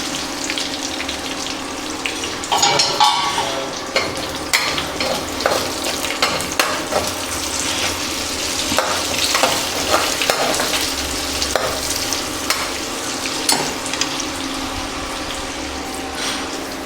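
Onions frying in a pan with whole spices for a mutton curry, a steady broadband sizzle punctuated by stirring scrapes and clinks throughout, fairly loud and close with no talking.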